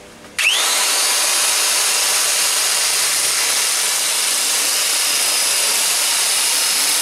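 Metal cutters trim leftover steel from a medieval armour thigh plate, a loud continuous grinding whine that starts abruptly and runs steadily for several seconds, with no talking.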